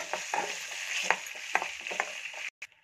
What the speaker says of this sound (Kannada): ಹಾಗೆ ಇದ್ರ ಜೊತೆಗೇನೆ ಕರಿಬೇವು, ಹಸಿಮೆಣಸಿನಕಾಯಿ, ಜೀರಿಗೆ, ಹಾಗೆ ಬೆಳ್ಳುಳ್ಳಿ ಕೂಡ ಸೇರಿಸ್ಕೊಂಡು ಸ್ವಲ್ಪ ಫ್ರೈ ಮಾಡ್ಕೊಳ್ಳೋಣ